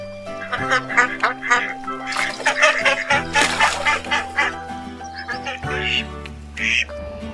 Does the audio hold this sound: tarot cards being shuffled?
no